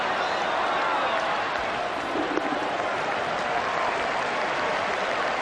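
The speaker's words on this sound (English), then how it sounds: "There's certainly plenty of atmosphere here at Eden Park this afternoon. It's a capacity crowd" A capacity cricket crowd at Eden Park applauding, a steady, loud wash of clapping and crowd noise that holds evenly throughout, with faint voices mixed in.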